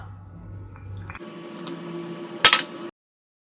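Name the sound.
water poured into bun dough mixture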